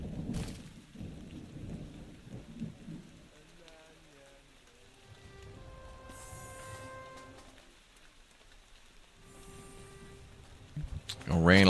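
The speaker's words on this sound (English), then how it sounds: "It's gonna rain a lot." In a co-op building video game, rain falls steadily, with rumbling thunder rolling in and fading, a loud burst at the end, and tonal game music tones drifting over the storm.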